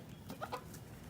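A chicken clucking softly, two or three quick low clucks in a short burst, fairly close but faint against a quiet background.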